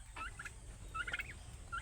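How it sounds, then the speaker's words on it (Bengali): A rooster and hens in a yard just after a cyclone's rain, giving short, soft clucks and calls in scattered bursts at moderate distance over a low rumbling background. "মোরগাই এখন উঠছে উপরে"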